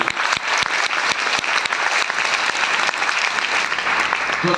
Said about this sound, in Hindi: तो इनके लिए एक जोरदार तालियां होनी चाहिए